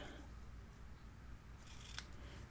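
Scissors cut craft material for a handmade mini album, one soft snip near the end over a very quiet background.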